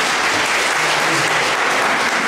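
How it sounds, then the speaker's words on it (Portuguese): A church congregation bursts into loud, continuous applause, dense hand clapping filling the room evenly from start to finish with no voices standing out. "Uma salva de palmas para o Senhor Jesus."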